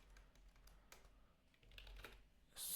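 Quiet keystrokes tapped on a computer keyboard while entering a git push command in a terminal, a loose run of soft clicks with a few brief pauses, ending in a louder burst.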